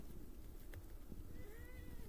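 A house cat gives a faint, short meow near the end, barely rising above a quiet indoor room hum.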